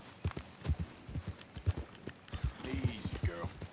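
In Red Dead Redemption 2, a horse's hooves clip-clop in a clear, regular, close walking rhythm with brief pauses, and a voice speaks over the later part.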